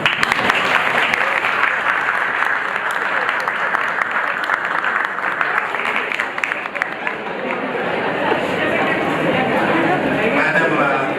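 A hall audience at a Constitution Day celebration at a law college claps steadily and loudly, with murmured chatter mixed into the continuous applause.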